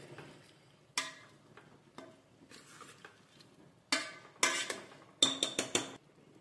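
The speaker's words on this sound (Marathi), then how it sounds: "पालक आणि डाळ छान मोठा गॅस करून एकजीव करून घ्यायचा आहे" A spoon stirs toor dal and spinach in a pot on high flame, knocking and scraping against the metal in irregular clanks that grow into quick, louder clusters of rapid taps toward the end, with no voices.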